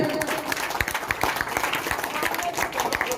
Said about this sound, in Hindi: आइए मुखिया जी, जोरदार ताली से स्वागत करें।